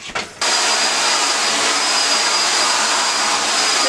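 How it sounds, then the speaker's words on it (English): A hair dryer blows steadily on curly hair, a loud, close whooshing roar that starts abruptly after a brief rustle and holds constant with no talking. "So typically I do that by bending over and drying the bottom part first, and then I flip my head back and I dry the rest of it."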